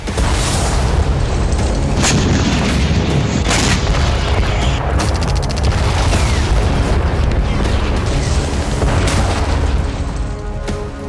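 Rocket launcher fire in a military attack on the Ukrainian army: a dense, continuous roar of loud booms and blasts with sharp bursts throughout, heavy low rumble and no speech.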